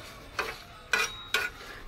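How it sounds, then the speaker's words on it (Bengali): Cumin, panch phoron and dried red chillies dry-roasting in a pan, stirred in three short scraping strokes over a faint steady background, close and alone. "আর খুব ভালোভাবে ভেজে নিচ্ছি, যাতে পুড়ে না যায় সেই দিকেও লক্ষ্য রাখতে হবে"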